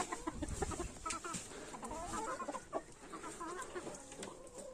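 Hens cluck and murmur close by, with a few short, rough bursts of a hen coughing among the chatter in a quiet coop in winter.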